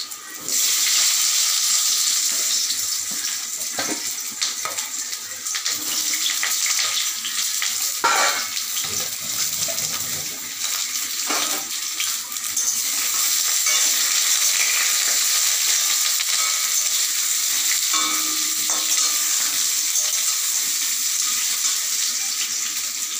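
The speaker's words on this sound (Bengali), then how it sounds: "গরম তেলের মধ্যে এই কেটে রাখা আলুকে এবার আমি আস্তে আস্তে দিয়ে দেবো।" Cut potatoes eased into hot oil in a home kitchen for browning, giving a loud, steady hissing sizzle that carries on for over twenty seconds, broken by a few soft clinks and bumps, with no one talking.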